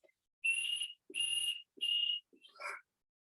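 A person whistles a short tune, three sustained clear notes followed by a brief warbling phrase, close and fairly soft in an otherwise quiet room.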